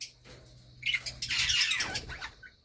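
Pet parrots eating broccoli let out a harsh, raspy squawk lasting about a second and a half, close and fairly loud, after a quiet start with faint chirps.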